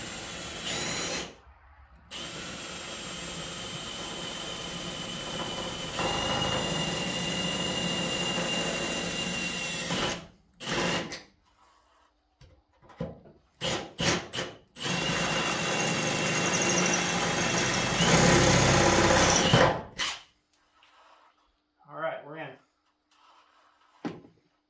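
Power drill boring out roof fasteners on a 1990 Ford F-250 pickup, a loud sustained whine in long bursts with short gaps, ending in scattered brief sounds; a person talks around it.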